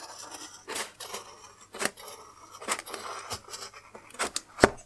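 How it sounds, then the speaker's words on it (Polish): Several sharp snips of large, sharp scissors cut through plywood-craft string at an uneven pace, close and crisp, with soft rustling between cuts. "Teraz biorę sobie mocne, duże, ostre nożyczki i przecinam"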